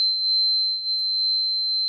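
An angel tuning fork rings a single pure, high, steady tone that holds unbroken and clear over near silence, with a faint low hum beneath.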